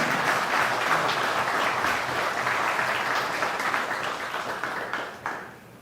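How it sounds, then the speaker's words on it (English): An audience at a memorial tribute applauds a serviceman, Corporal J. Jairam, who stands to be honoured. Sustained, dense applause fills the hall, then thins and tapers off toward the end. "I ask you to stand and ask all of us to applaud this serviceman."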